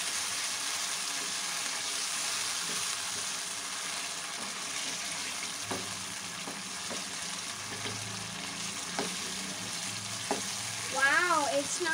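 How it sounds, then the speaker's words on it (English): Chicken white karahi fries on a high flame, a steady hiss of sizzling oil with faint scrapes and clinks of stirring, and a slightly louder spatter near the end. "Now we will cook it on high flame, boys."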